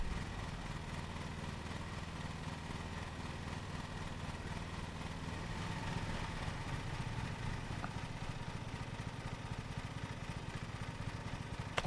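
A lawn mower engine runs in the video game Lawn Mowing Simulator, a steady droning hum that holds evenly without a break.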